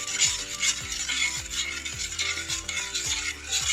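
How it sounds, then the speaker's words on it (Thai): A utensil stirs simmering satay dipping sauce mixed with coconut milk in a pot, giving repeated scraping strokes at a steady rhythm over a soft bubbling sizzle, with no talk. "ผสมกับน้ำกะทิ โอเคเราก็เคี่ยวผสมไปเรื่อย ๆนะคะ"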